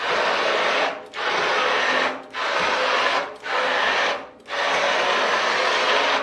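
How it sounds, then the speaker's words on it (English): Blender pulsing coconut roasted tomato soup in four loud, close bursts of whirring, each about a second long, separated by brief dips as the motor spins down. "all I'm doing is pulsing, because if you go continuous, it will create a lot of froth"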